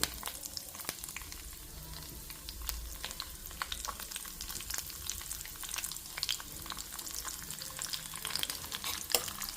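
Green chillies fry in a pan with a quiet, constant sizzle and frequent small pops and crackles scattered throughout.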